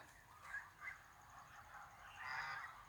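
Faint honking from geese and ducks, a few soft calls in a row, heard from a distance.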